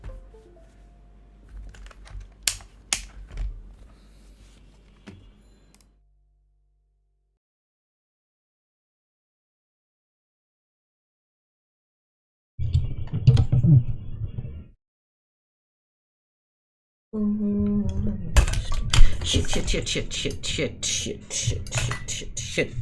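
Bursts of clicky mechanical keyboard typing separated by silent gaps, the last stretch dense and loud with rapid keystrokes, plus a few louder knocks.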